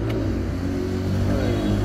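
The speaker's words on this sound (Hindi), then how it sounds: "ये गाड़ी स्टार्ट नहीं हो रही" A Porsche Cayenne hybrid with a hybrid system failure tries to start, giving a steady low engine rumble and hum that holds for a couple of seconds, close and fairly loud, with no speech.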